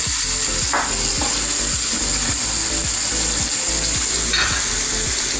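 Tomatoes and onions fry for a brinjal oro, giving a loud, continuous close sizzle with faint scraping stirs throughout.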